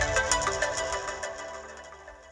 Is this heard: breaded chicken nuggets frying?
no